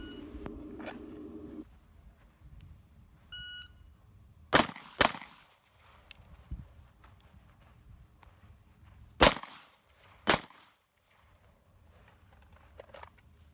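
Sharp gunshots from a Glock 45 custom pistol fired at targets: four loud, distinct cracks arriving singly at irregular intervals, with quieter background noise between them.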